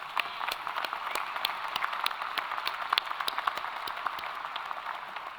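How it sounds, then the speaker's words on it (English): A crowd applauds staff at a university convocation ceremony in an arena, with dense continuous clapping where individual sharp claps stand out, moderately loud and steady the whole time. "So let's give them a round of applause"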